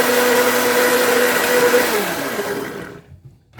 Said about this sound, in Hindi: आपके सामने ही इसको भी ग्राइंड कर देते हैं